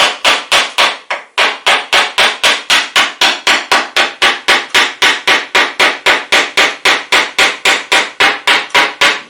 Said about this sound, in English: You'll notice that I'm using a very light hammer